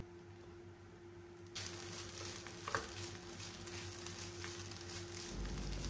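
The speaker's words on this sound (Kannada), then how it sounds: "ಈಗ ರೈಸ್ ಮಿಕ್ಸ್ ಮಾಡ್ತೀನಿ." Rice is stirred with masala in a pan, giving a soft scraping and light sizzling texture that continues steadily at a quiet level.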